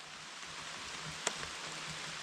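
Cold rain falls outdoors at a tiny cabin building site, a faint, steady wash of hiss with a single small tap partway through.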